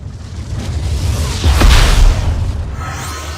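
Phoenix Fire ability attack in a Marvel video game, a deep roaring boom that swells toward the middle and fades, with a fiery rushing burst on top.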